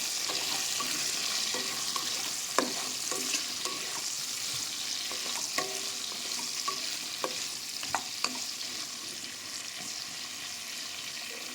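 Green chillies and masala fry in a pan, a steady close sizzle broken by scattered clinks and scrapes of a spoon stirring, with no talking.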